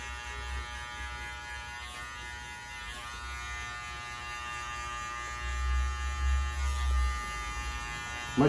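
Electric hair clipper buzzing steadily during a barbershop haircut, a low continuous motor hum that swells slightly louder toward the end as the blade works through hair.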